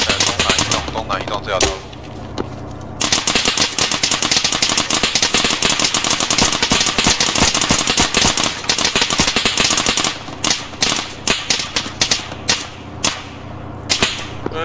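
Heavy machine gun fire in the ArmA military game, loud rapid bursts of sharp cracking shots in long strings with brief gaps, someone speaking Chinese briefly over the din.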